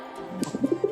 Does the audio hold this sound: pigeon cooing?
yes